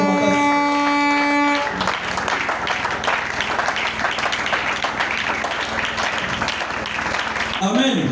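A church congregation applauds and cheers loudly after the pastor's sermon, steady dense clapping sustained throughout after a brief sung or held tone at the start.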